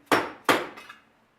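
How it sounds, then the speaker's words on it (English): A dead blow hammer strikes a Holley 2-barrel carburetor float bowl twice in quick succession, each a sharp, close smack with a short ringing decay, followed by a faint rattle as the bowl loosens. "Give it a quick smack with the dead blow."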